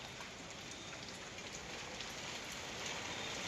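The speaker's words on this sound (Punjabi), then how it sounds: "ਅੱਜ ਹਵਾ ਦੇ ਨਾਲ ਮੀਂਹ ਪੈਂਦਾ ਨਾਲੇ ਹਵਾ ਤੇ ਨਾਲੇ ਮੀਂਹ" Steady rain with strong wind, a dense, even hiss of drops on surfaces with no voices, holding at a constant moderate level.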